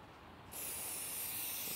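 Spray lubricant hisses from an aerosol can onto the edges of a Hydrovane vane cover, a steady loud close spray that starts abruptly and runs on without pause.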